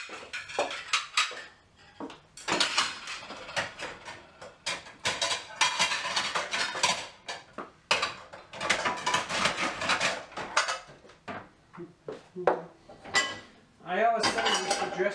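Dishes and cutlery clink and clatter steadily while being washed by hand at a kitchen sink, with near, busy bursts of clattering and brief pauses, and some talking mixed in.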